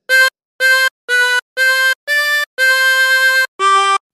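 Harmonica playing a phrase of the carol O Come All Ye Faithful, seven clear sustained notes separated by short gaps, the sixth held longer, loud and close with no voice.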